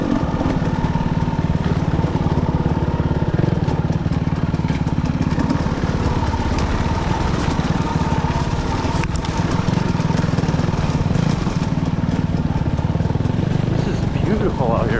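A motorbike engine hums and revs steadily throughout on a trail ride in Mio, Michigan, close by, with wind and rumble over the running motor.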